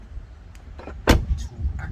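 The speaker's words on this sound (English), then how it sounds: "People tend to struggle opening this door." A 2021 Tesla Model 3 Long Range door opens with a sharp, close click-thunk at the latch, followed by softer shuffling handling noises against a quiet background.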